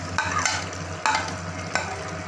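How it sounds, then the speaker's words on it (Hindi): Cauliflower fries in half a cup of hot oil with beef and potato, a dense sizzle broken by three sharp scraping strokes of a stirring spoon against the pot. "अब इसमें 1/2 कप ऑयल डाल देना है और इसको अच्छे से भून लेना है"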